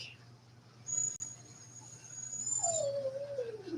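A young female dog whines indoors, a thin rising-and-falling whimper that swells near the end over a steady low hum, with a faint high tone earlier.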